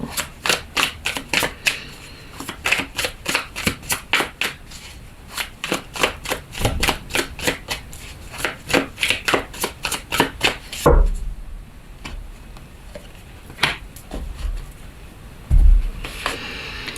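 Tarot cards are shuffled in quick rhythmic riffles, a dense series of crisp flicking bursts for about ten seconds, then a few louder slaps and soft handling sounds as cards are laid down, close and clear.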